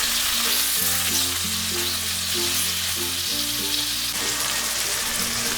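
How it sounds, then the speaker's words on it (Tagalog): Beef pieces sizzle loudly in a pan for caldereta, a dense continuous frying hiss with stirring, close and steady with a faint background hum, no speech. "Ilagay na natin ang karne ng baka. Haluin saglit at magpatuloy sa pagluto ng ilang minuto"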